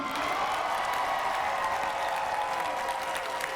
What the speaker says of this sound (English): can we have one last cheer for Megaplex 2021?